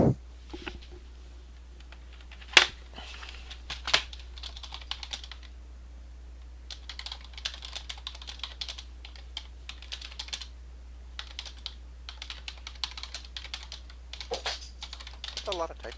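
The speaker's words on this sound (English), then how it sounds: "That's a lot of typing." Someone types on a computer keyboard in scattered bursts of quiet, fast clicks, with a few sharper keystrokes and pauses in between.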